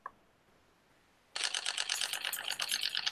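A single-lens reflex camera shutter fires in a rapid burst of about 13 frames per second at high shutter speed, a dense run of crisp clicks lasting nearly two seconds after a lone click and a quiet pause.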